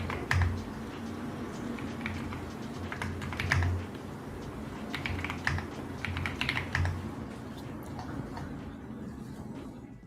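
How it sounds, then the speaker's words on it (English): Steady typing on a computer keyboard during a live day-trading stream, a fast irregular patter of key clicks with occasional harder strikes, close and continuous over a low background hum. "Sounds like Rizzo's typing out like deep analysis."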